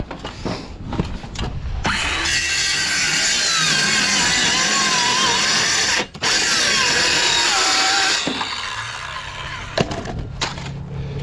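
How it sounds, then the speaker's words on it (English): A Ryobi brushless impact driver drives screws into a roof in windy cold weather, with two long, loud whirring runs broken by a brief pause, and wind noise around them. "I love my new brushless Ryobi impact driver."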